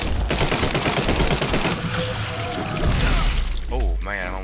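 Gunshots in The Sinking City, a horror video game, fire as dense rapid broadband bursts through the first half and then thin out. Game music and sound effects run throughout, and a voice is heard near the end.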